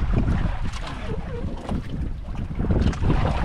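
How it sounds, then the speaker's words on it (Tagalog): Strong sea waves surge around a small boat, a rough, churning wash mixed with heavy wind buffeting against the microphone, loud and close throughout. "Lakas ng alon."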